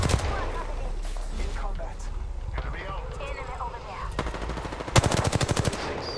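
Rapid automatic gunfire from an Apex Legends match, starting with scattered shots under voices, then a loud, tightly spaced burst near the end that continues in fast repeated cracks.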